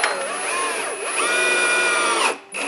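A power drill whines steadily while driving 1¼-inch screws into the underside of a kitchen cabinet, its pitch dipping and rising, then stopping briefly before a short final burst.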